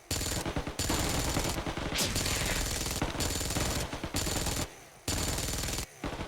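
Automatic weapon fire in the mobile shooter Undawn comes in dense, loud rapid bursts split by short gaps, with close punchy shots and no talking during the bursts.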